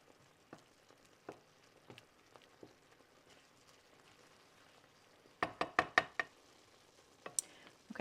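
Frozen mushrooms and onions cook in a pan with faint crackling and sparse soft ticks, then a quick run of five sharp, close knocks, a couple more at the very end.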